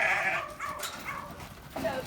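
Sheep in a pen give several short bleats across about two seconds, close by and moderately loud, with a low farmyard background.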